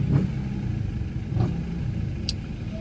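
Car traffic near SM Daet mall, with low engine rumble from vehicles passing close by and a brief higher whine near the end, no talking.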